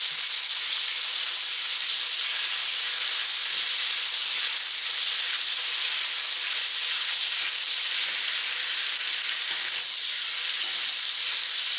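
Onions fry hard in a very hot pan, a loud, dense, unbroken sizzle with a steamy hiss that holds steady throughout.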